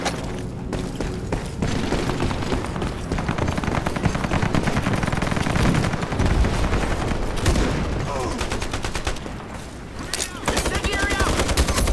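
Sustained M4 rifle fire in a video game, dense rapid bursts and overlapping shots filling the scene almost without pause, loud and close amid other battle noise.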